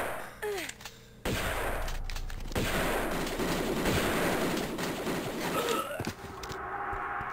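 Enemy gunfire in Tomb Raider II Remaster aboard the wreck of the Maria Doria: a loud, sustained burst of rapid shots after a sharp onset, with footsteps and a brief breath around it.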